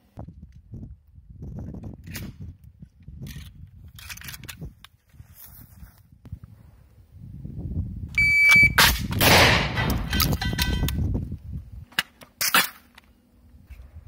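Sharp shotgun blasts ring out amid mechanical clicks and clatter of reloading, with a loud burst in the middle followed by another sharp crack.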